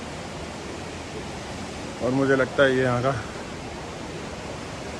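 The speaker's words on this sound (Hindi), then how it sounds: "नदी का वर्षा जल का बहाव है" Rainwater runoff in a river beside bathrooms at Devprayag makes a steady broadband rushing that stays constant throughout, with a short stretch of talking over it in the middle.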